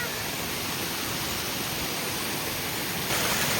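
A steady, dense roar of falling water from the Simili waterfall fills the scene at constant loudness, close and unbroken, with no voices.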